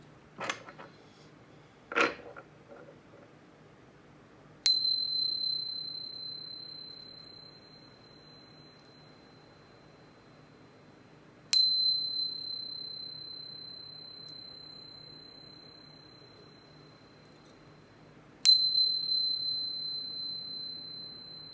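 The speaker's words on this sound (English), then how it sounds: "But first, let's chime." A chime bell is struck three times at even intervals, each strike a clear, pure ringing tone that decays slowly, with a couple of faint handling knocks beforehand.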